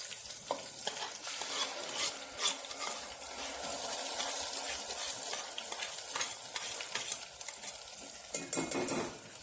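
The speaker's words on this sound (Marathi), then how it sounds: "कढीपत्ता आणि लसूण टाकायचं फोडणीसाठी. परत थोडीशी कोथिंबीर पण टाकली. मग आता मिक्सर केलेला मसाला टाकायचा" Ground masala hits hot oil with curry leaves, garlic and coriander in the tempering for Maharashtrian katachi amti, sizzling and frying steadily while a spoon scrapes and stirs the pan.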